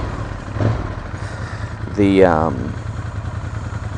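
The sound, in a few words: motorcycle engine running, test ride on a 1200S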